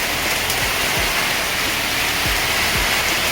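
Heavy rain falls steadily outdoors in cold weather as a constant loud hiss, with a few low thumps of drops striking a surface; no one talks.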